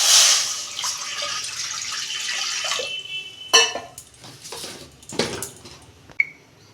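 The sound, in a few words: pouring water into a wok (kadai)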